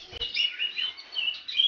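A kacer, or oriental magpie-robin, chirps in a quick run of high, thin tweets close by, with no talk.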